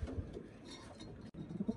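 Pigeons in a rooftop cage setup coo softly at night, with low, faint rumbling calls and a few light clinks nearby, no speech.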